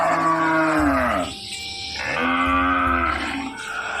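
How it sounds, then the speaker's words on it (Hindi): A cartoon cow moos at night in a deserted spot in a spooky animated tale: two long, loud, groaning bovine calls with a brief gap between them, heard alone. "इस सुनसान जगह में इतनी रात को गाय की आवाज कहाँ से आ रही है?"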